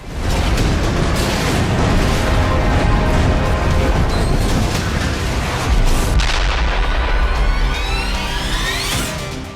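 Explosions from a Ukrainian bombing strike on an oil refinery in Russia's Ryazan region near Moscow form a sustained, loud barrage of heavy booms and rumbling blasts, with no pause across the whole stretch.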